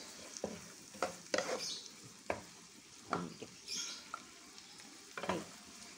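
Onion and garlic sautéing in a pan for ragout, a low, steady sizzle broken by several sharp spatula scrapes and stirring knocks at irregular intervals, close but fairly quiet, with no speech.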